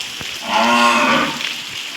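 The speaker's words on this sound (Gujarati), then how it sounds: "અને ભેંસ આટલા રેકા છે" A buffalo gives one long, loud, low moo close by, set against faint rain-like background noise on a wet day.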